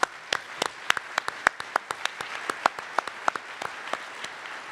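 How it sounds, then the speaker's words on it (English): Sparse applause at a luncheon, with a small audience clapping in distinct, separate claps that carry steadily but fairly quietly for several seconds. "Please join me in giving them one more round of applause."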